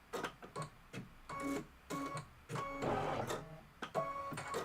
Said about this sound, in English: So I'm just going to hit start and let it do the quilting.